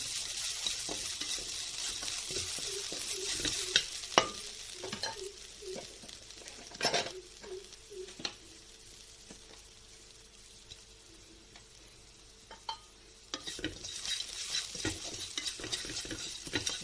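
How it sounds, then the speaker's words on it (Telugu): A spice paste frying in a pan for a broad beans fry, with soft sizzling under repeated close spatula stirs and scrapes, quieter in the middle stretch before the stirring picks up again; no one talks. "దీన్ని కొద్దిగా పచ్చివాసన పోయేదాకా వేయించుకోండి."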